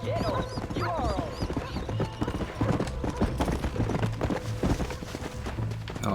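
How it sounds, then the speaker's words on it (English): Horse hooves clip-clop at a steady walking rhythm in the Red Dead Redemption video game, close and fairly loud over continuous ambient game sound, with occasional brief vocal sounds. "Oh, I gotta hitch my horse."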